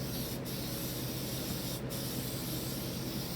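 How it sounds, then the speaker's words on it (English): Super 77 spray adhesive hisses from an aerosol can in a steady, close spray, with two very brief breaks where the nozzle pauses. "we are going to coat this with Super 77 spray adhesive"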